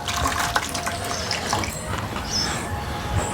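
Water runs steadily from a tap, a close, continuous splashing gush with slight fluctuations and no voices.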